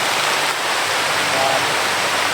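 Heavy rain driven by strong wind makes a dense, steady, loud hiss that fills the whole moment without a break.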